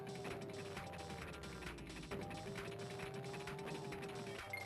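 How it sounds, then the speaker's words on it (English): A rickety cart rattles along in Donkey Kong Country 2: Diddy's Kong Quest, giving a steady clattering, ratcheting mechanical noise with a repeating whistling tone above it, fairly quiet and continuous throughout. "they actually made the car sound extra Sound rickety"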